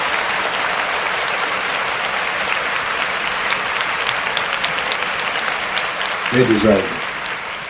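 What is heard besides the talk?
audience applause for Washington State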